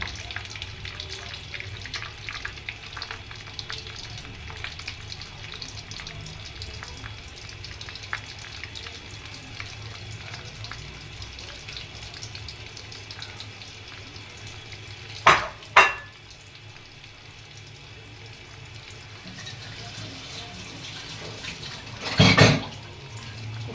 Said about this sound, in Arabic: يا حبايب قلبي الزيت سخن، ننزل بسم الله